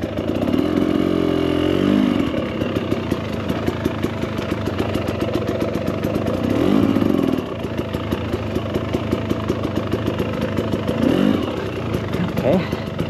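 A 2024 Husqvarna TE300 Pro dirt bike being ridden on gnarly terrain, its two-stroke engine buzzing loud and close, rising in several revving surges between steadier running.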